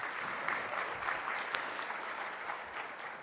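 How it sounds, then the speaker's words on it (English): A Women in Tech 2023 audience applauds speaker Liza Belozerova on stage, an even, moderately loud patter of many hands held steady for a few seconds. "Let's just give one more round of applause to Liza."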